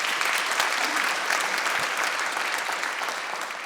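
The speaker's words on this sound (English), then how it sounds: "so round of applause for him." Audience applause at a 2026 State of the City presentation in St. Charles, Illinois, honoring the mayor: steady, dense clapping from a large indoor crowd, sustained throughout and tapering slightly at the end.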